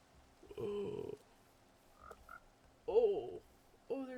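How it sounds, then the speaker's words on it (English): Frogs croak in an island survival video game, several separate calls spaced over a few seconds, some harsh and buzzy, others short and gulping, moderately loud against a quiet background with no speech over them. "Oh, there's so many frogs."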